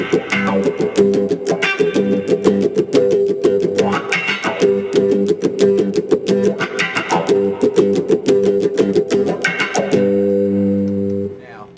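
Electric guitar through a Cry Baby wah pedal sweeping the tone, rhythmic strummed chords repeating in bursts, ending on a sustained ringing chord.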